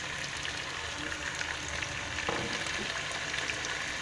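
Chicken white karahi masala with white pepper, black pepper, ground coriander and crushed red chili frying in oil, a soft steady sizzle and bubbling with a faint stirring scrape.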